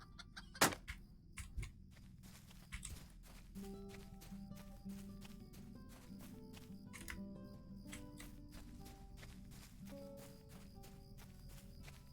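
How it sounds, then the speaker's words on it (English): Chickens clucking in Lord of the Rings Online, scattered soft clucks and squawks over a quiet outdoor game ambience, with a sharper call near the start and faint background tones throughout. "there's chickens everywhere"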